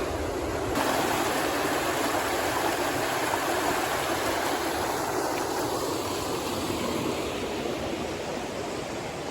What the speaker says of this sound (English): What a raging river.